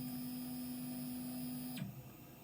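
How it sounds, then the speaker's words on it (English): A Tormach CNC mill performs an M6 tool change: a steady machine hum with high whining tones holds for nearly two seconds, then stops abruptly with a brief clunk as the mechanism settles. "And now this is an M6 tool change."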